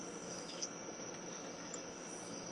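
Crickets chirp outdoors as a thin, continuous high-pitched trill, faint and steady over quiet background noise.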